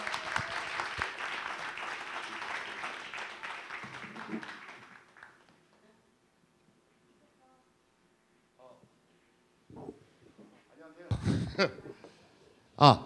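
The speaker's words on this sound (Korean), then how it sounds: "박수로 맞아주시죠" A book-concert audience applauds to welcome guests on stage, the clapping loud at first then fading out over about five seconds, followed by near silence and scattered handling noises and voices.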